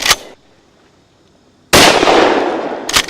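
A shotgun fires at a clay target, delivering one sharp, loud blast with a ringing tail, then a second close shot about 1.4 seconds later, with another burst at the very end.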